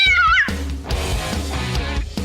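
On a podcast game segment, a person meows out a tune in short sung cat-like phrases, the voice imitating a cat, followed by laughter and a few voices in the background.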